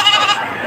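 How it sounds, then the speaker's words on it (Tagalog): A tall, slender Anglo-Nubian goat at a livestock market bleats in one loud, wavering call that fills the short moment and trails off, close by and with no one talking. "Ang lahi po ng kambing na ito ay Anglo-Nubian."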